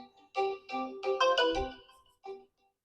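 A Realme C75 phone plays its ringtone through its loudspeaker, a bright melodic sequence of several chiming tones in quick bursts with short gaps, close and clear, ending after about two and a half seconds.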